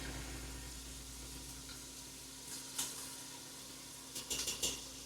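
Garlic frying in a pan for a chicken and vegetable soup: a steady, faint sizzle with a low hum beneath it, broken by a few soft clatters and a quick cluster of louder taps near the end, with no talk.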